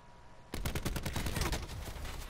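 Rapid bursts of automatic gunfire from the Seraph character in Call of Duty Black Ops 4, a dense, fast rattle of shots that starts abruptly after a short quiet lead-in and keeps going, loud and close.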